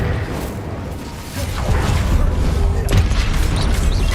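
Fire-spell casting in the Hogwarts Legacy video game on PC: a deep booming burst with a whooshing flare and crackling impact, loud amid ongoing combat effects.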